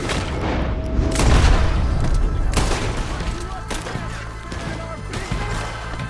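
Gunfire in Red Dead Redemption 2 during a law-helping shootout: repeated shots and booming hits crackle over a dense, rumbling mix, with voices under the fighting.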